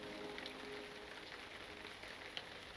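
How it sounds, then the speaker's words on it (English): Rain falling in the video game Lord of the Rings Online, a soft, steady patter of drops on surfaces with occasional brighter splashes, faint and continuous with no voices. "Look at all this rain."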